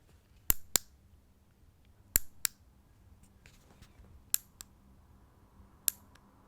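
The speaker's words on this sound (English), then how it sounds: "that was the round light. It has a more subtle clicking sound." A round light gives sharp, crisp clicks in pairs, spaced a second or two apart, close up in a very quiet room as an ASMR trigger.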